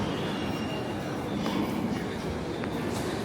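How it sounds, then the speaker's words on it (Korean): Busy train station in Qingdao, China, with a steady rumble of rail noise and faint metallic squeals, crowd hubbub and indistinct voices in the background, continuous at moderate level. "여기는 칭다오 기차역입니다."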